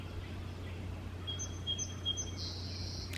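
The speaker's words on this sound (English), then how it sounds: "overall you can hear the birds singing" Thin, high bird chirps in an early-morning urban cottage garden in late spring, a few brief calls and a sustained high note over a steady low hum of distant city traffic.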